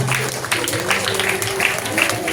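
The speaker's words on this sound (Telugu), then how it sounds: "గట్టిగా క్లాప్స్ కొడదాం" A group at a meditation session claps together in steady, rhythmic beats under a reverberant room tone, with a voice talking faintly in the background.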